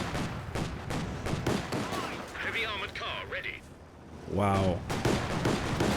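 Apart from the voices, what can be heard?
Panzer II tank gunfire in a video game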